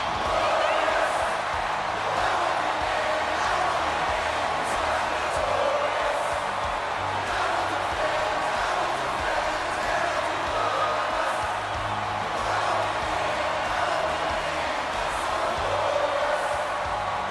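Steady wall of arena crowd noise from a WWE 2K24 wrestling game show, a continuous roar with scattered cheers and whoops, loud and unbroken throughout, with commentary voices blended in.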